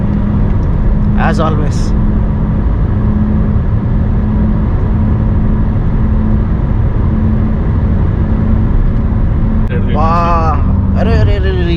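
A 2011 Jetta sedan taking road corners on a highway trip toward Bangalore, its engine and road noise a loud, constant rumble inside the cabin, with a short burst of voice near the start and more talk near the end.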